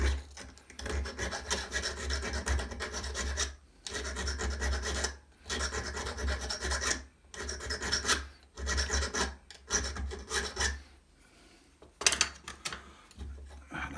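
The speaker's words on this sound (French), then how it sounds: "On va reprendre la petite lime là, ici." A small file rasps back and forth on a curved edge of an enamelled copper piece, giving close, gritty strokes in bursts separated by short pauses, with no talking.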